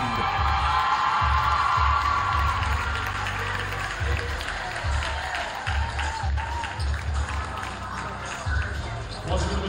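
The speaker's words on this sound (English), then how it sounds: "Once again, a big round of applause for our junior class of Lady Lions basketball players." A gym crowd at a Lady Lions high school basketball introduction claps, whoops and cheers for the junior class players, a sustained roar with thumping stomps and shouts throughout.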